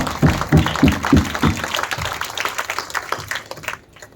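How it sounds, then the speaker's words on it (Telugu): A church congregation applauding a mother, a burst of loud, close clapping that swells in rhythmic waves and then fades out toward the end. "ఒకసారి అందరం కూడా ఆ తల్లికి మరి ఘనముగా చప్పట్లు కొట్టి మనందరూ కూడా ధన్యవాదాలు తెలియజేస్తున్నాం"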